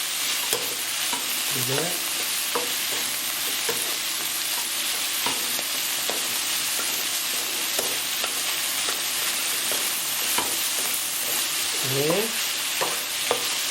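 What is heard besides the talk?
stir-frying oyster mushrooms with young ginger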